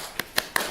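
Sparse handclaps from a French game-show studio audience voting by applause, four short separate claps rather than sustained applause, moderately loud with no talk over them.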